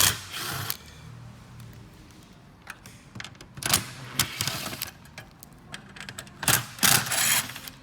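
Screws come out of a 2016–2020 Toyota Hilux stereo unit on a bench, heard as irregular close mechanical clicks and rattling bursts of a tool working, loud at moments, with no voices.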